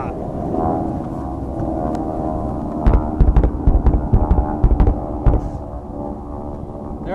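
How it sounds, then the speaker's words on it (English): Kate torpedo bombers fly past during a Tora Tora Tora demonstration at the MCAS Yuma airshow, a loud, throbbing piston-engine drone that holds steady, with a burst of sharp thumping pops midway and a crowd voice talking over it. "Here comes the torpedo bombers. The Kate torpedo bombers."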